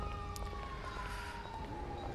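Steady ambulance siren from GTA roleplay, a long wailing tone sweeping slowly over continuous traffic and city ambience, moderately distant and sustained throughout.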